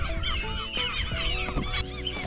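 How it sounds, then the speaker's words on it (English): Several geese honk repeatedly while taking off from an abandoned island off the Irish coast, a noisy, overlapping chorus, loud and nearby, with no talking. "4 big geese are just after taking off."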